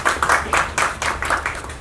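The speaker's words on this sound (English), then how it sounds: "Come on, you can do better than that. A big round of applause." Applause from an audience at a movie premiere, a quick, even patter of many hands clapping in steady rhythm, fairly close and with no talk over it.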